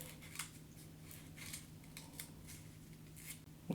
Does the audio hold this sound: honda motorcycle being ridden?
no